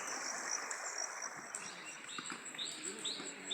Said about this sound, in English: Listen to the sound of the river.